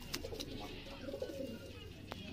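A pigeon from a breeding setup gives a soft, low coo, fairly faint and close, with a few quiet rustles around it.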